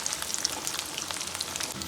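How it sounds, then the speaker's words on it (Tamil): Garlic sizzles and crackles steadily in hot oil while frying for a Tamil-style mixture snack, a dense, continuous close-up hiss with no voices. "பூண்டை பொரிச்சு எடுத்துடலாம்."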